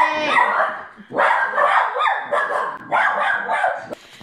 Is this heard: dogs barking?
yes